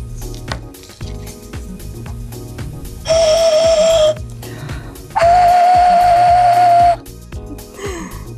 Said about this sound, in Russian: Для того, чтобы свистулька свистела на разные тона, мы сделаем еще одну дырку сбоку